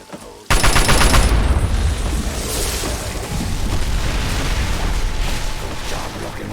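A loud explosion in Fallout 3 goes off to seal a hole, bursting in after a brief quiet moment and followed by several seconds of sustained rumbling blasts and crackling debris.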